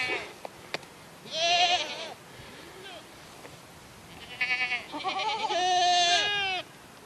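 A pet goat named Snickers, during a feed taste test, lets out several loud, wavering bleats in close succession, the longest near the end, with a voice speaking briefly.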